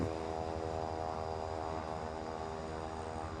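Propeller aircraft engine in Microsoft Flight Simulator, a steady buzzing drone with a rough lawnmower-like tone, loud and continuous throughout with no talking.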